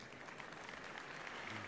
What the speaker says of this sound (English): That was a charity clap.